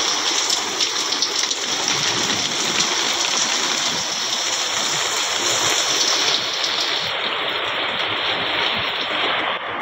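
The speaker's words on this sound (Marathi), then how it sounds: "इथे सकाळ सकाळी पाऊस चालू झाला आहे" Steady morning rain falls outdoors in summer, a continuous even hiss of drops on surfaces, close and moderately loud throughout with no talking.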